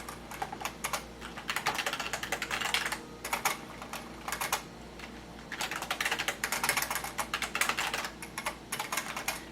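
Rapid typing on a computer keyboard while chatting in World of Warcraft: dense bursts of quick clicking keystrokes, close and fairly quiet, separated by short pauses, with no voices.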